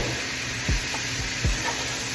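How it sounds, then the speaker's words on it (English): Shrimp hiss and sizzle as they hit a hot pan of curry, a steady close frying crackle with a couple of soft stirring scrapes. "So now we can add all of our shrimp."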